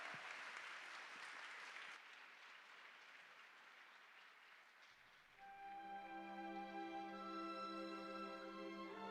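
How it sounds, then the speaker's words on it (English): Applause from a school audience at a cultural day, welcoming grade 5 students onto the stage, fading gradually before music with sustained tones starts up. "We can have another round of applause, please, to welcome our kids on stage."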